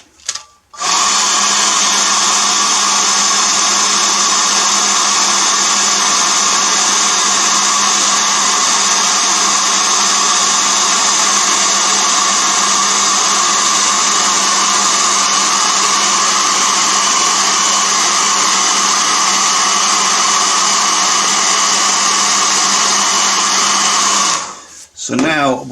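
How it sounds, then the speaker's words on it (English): A hair dryer drying a painting blows continuously at full power with a steady whirring roar for nearly half a minute, then switches off at the end. "And I'm going to just use a hairdryer."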